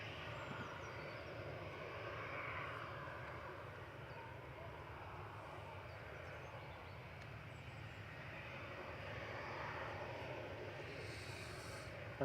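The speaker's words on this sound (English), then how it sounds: "just touching down, rolling out here is Ryanair 554 from Dublin" A Ryanair jet from Dublin touches down and rolls out on the runway at Manchester Airport, a faint, steady distant rumble of engines and wheels that holds evenly throughout.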